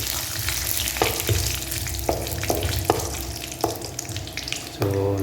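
Chicken with spices fries in a kadai with a continuous loud sizzle and crackle, punctuated by several sharp metallic scrapes and taps of a spatula being turned through the pan.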